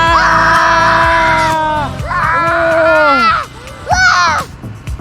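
Several people yell loudly on a beach in three long, strained bursts, close and shrill, with brief pauses between.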